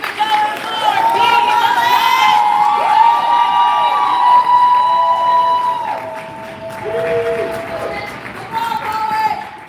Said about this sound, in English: keep that round of applause going for our last poet in round 2